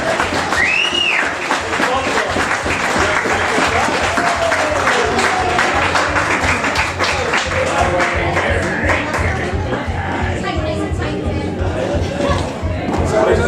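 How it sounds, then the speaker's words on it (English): An audience at an evening music event applauds loudly and continuously for over ten seconds, dense clapping with cheers and voices mixed in, plus a brief whistle near the start. "give them a big round of applause"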